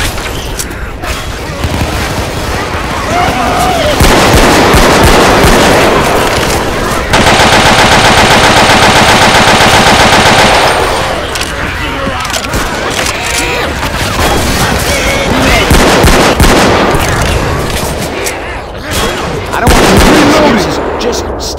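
Video game battle in realism mode with tanks, loud bursts of machine gun fire, rifle shots and booming explosions, one long sustained burst in the middle, while players talk over the gunfire.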